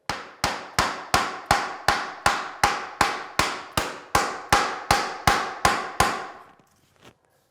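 A hammer taps luxury vinyl plank flooring into place during an install, about fifteen sharp evenly spaced knocks, loud and close, followed by a pause and one faint final tap.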